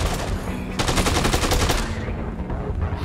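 Rapid automatic gunfire in a zombie shooter game, a dense sustained burst of shots that cuts off partway, leaving a lower rumble of game noise beneath.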